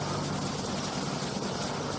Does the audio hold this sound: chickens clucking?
no